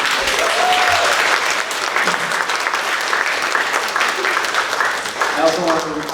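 Sustained crowd applause fills a room at an interfaith Memorial Day gathering at a senior residence, honoring a rabbi; the dense clapping stays loud and steady throughout, with a few voices calling out beneath it.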